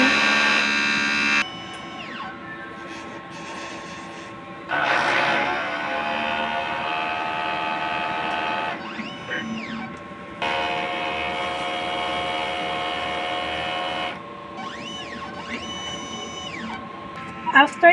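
An inkjet printer runs a head cleaning cycle, giving sustained mechanical whirring and humming in long stretches with brief pauses and shifting tones between them.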